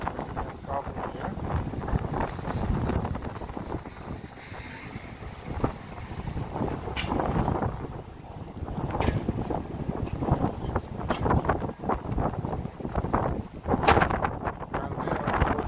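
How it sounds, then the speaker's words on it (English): Strong wind buffets a microphone on a city street, producing continuous low rumbling gusts that surge and ease throughout, with faint street sounds beneath. "Wind is picking up."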